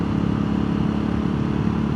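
Royal Enfield Guerrilla 450 motorcycle fitted with an Arrow exhaust, a steady low engine rumble at even revs, close and loud with no talking.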